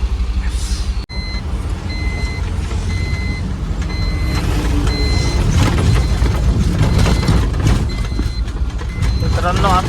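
A truck's reversing alarm beeps in a steady repeating pattern amid a road traffic jam, over a continuous rumble of engines and passing vehicles, with a voice talking over it.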